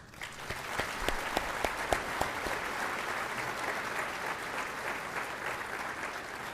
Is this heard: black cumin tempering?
no